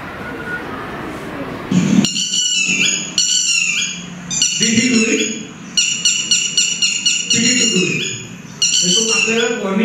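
A bird near its nest gives repeated sharp, ringing alarm calls in quick bursts, loud and close, with a voice speaking briefly at the start.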